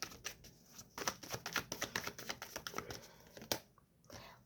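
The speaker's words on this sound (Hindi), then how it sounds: "हम कार्ड शफल कर लेते हैं" Tarot cards are shuffled, making a quick run of crisp, dry flicks and riffles up close, with a brief pause and a final softer rustle.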